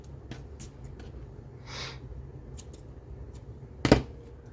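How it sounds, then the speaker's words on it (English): Scissors cutting cheesecloth while trimming a craft piece, a few quiet snips scattered over a soft background, ending with one sharper, louder cut near the end. "let's cut some of this off."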